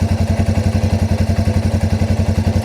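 A Yamaha TW200 motorcycle engine idles roughly after a small carburetor adjustment, a close, loud, evenly pulsing thump with a slightly uneven rhythm.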